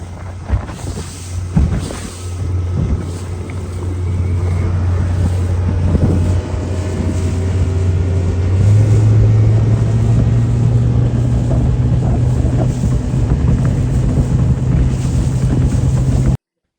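A 1980 Charger bass boat with a 90hp Mercury outboard cruises on open water, its low engine drone steady and loud, rising in pitch midway as throttle increases, with heavy wind buffeting the microphone throughout.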